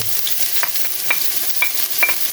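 Onion, garlic and ginger hit hot cooking oil together, giving a steady close sizzle with light scraping and stirring clicks scattered through.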